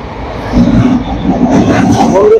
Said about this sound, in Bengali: আর আমাদের ট্রেন এখন যাচ্ছে